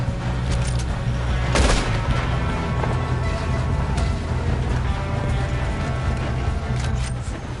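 Gunfire in the Western video game Red Dead Redemption 2, a dense, continuous fusillade of shots and booms that fills the whole stretch loudly, with no talk over it.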